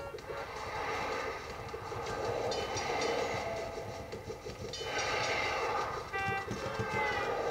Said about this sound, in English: Oh, there's a train coming too.